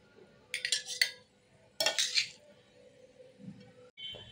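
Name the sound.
spooning tomato chutney into a mixer grinder jar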